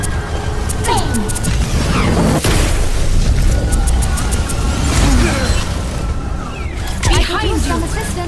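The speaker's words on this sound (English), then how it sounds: "Meteor strike!" Doomfist's Meteor Strike slams down in Overwatch with a heavy booming impact amid dense, loud game effects, gunfire and overlapping voice lines.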